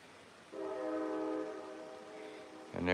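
An arriving train sounds its horn at a station in Alaska, one sustained harmonic blast lasting about a second, heard from a moderate distance over quiet surroundings, followed by a brief burst of noise.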